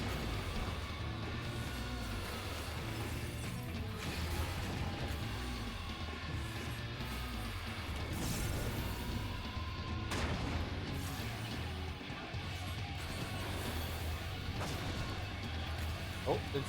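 Explosions and crashing impacts from a Final Fantasy XIV boss fight rumble through dense, continuous game audio with several booming hits, while a player talks over the action.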